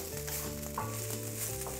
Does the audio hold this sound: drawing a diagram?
no